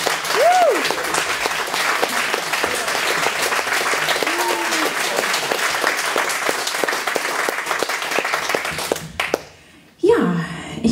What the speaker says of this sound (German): Nochmal ein Applaus